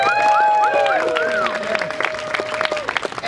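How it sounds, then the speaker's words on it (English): An audience at a Fossil of the Day award event during the COP20 climate talks breaks into applause. The clapping swells under whistle-like tones and chatter, then continues as scattered, close claps. "A big round of applause, please."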